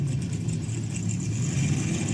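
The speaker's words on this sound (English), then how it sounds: "540 cubic inch big block Chevy engine." Supercharged drag racing dragster with a 540 cubic inch big block Chevy engine and side-mounted ProCharger, a steady loud low engine rumble running continuously at a drag strip.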